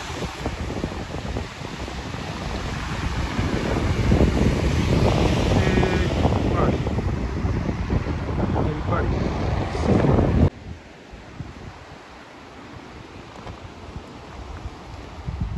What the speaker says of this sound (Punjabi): ਬਹੁਤ ਸੋਹਣਾ ਬੀਚ ਹੈ ਬਹੁਤ ਸੋਹਣੀ ਧੁੱਪ ਹੈ ਪਾਣੀ ਵੀ ਛੰਨਾ ਵੀ ਦੇਖ ਲਓ ਬਹੁਤ ਤੇਜ਼ ਹੈ ਅੱਜ